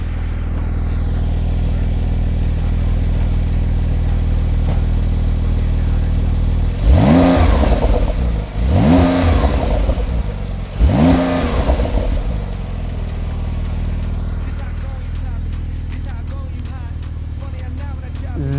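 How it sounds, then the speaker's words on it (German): A Porsche 992 Turbo S engine idles steadily, then revs hard three times in quick bursts while stationary, each roaring up and falling back before settling to idle again. "Jetzt machen wir das Ganze geil mit ein bisschen Gasstößen."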